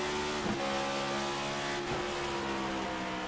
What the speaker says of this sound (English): God, just listen to that engine note.